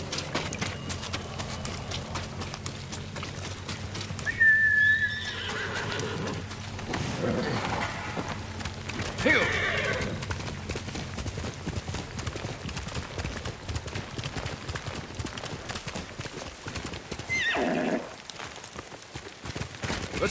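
Horse hooves clip-clopping in the video game Ghost of Tsushima, a steady rhythmic trot running throughout with brief whinny-like calls and game sounds over it, loud and close.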